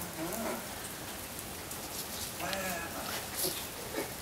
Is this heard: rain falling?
yes